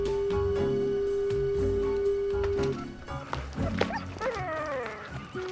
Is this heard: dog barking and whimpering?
yes